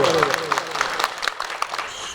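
An audience at an outdoor Gondwana Gantantra Party political rally in Madhya Pradesh claps in support, a brief spatter of scattered hand claps under a speaker's amplified voice.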